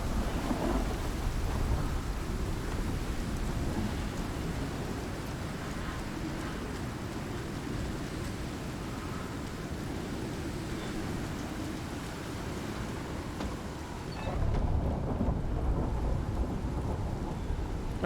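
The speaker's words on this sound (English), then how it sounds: "Alright, let's go get out of this storm." A thunderstorm rumbles in the survival video game Icarus: steady heavy rain hisses with a deep, continuous roll of thunder underneath, surging louder near the end, with no talk.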